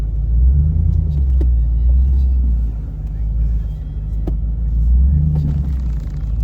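A truck crawls over a bunch of logs on an off-road overlanding course, its engine a steady low rumble close by with occasional knocks and thumps as the tires climb over the timber.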